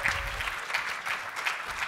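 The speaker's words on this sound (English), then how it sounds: "well-deserved applause" Audience applause at the Joomla! World Conference 2013 evening keynote, a steady, moderately distant wash of clapping from a standing crowd with faint crowd noise underneath.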